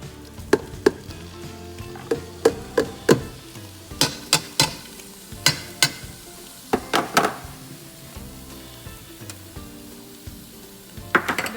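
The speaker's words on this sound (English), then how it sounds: "that's when you put your tomatoes, onions, and the 2 garlics that you should have divided into there." Tomatoes, onions and garlic hit hot oil in a pan for meatball soup, giving a continuous sizzle broken by a steady run of sharp clinks and scrapes from stirring, close and fairly loud throughout.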